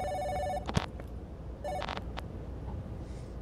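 A telephone rings in the horror video game Giraffe Town: two electronic ring bursts separated by a short pause, then near silence with faint clicks.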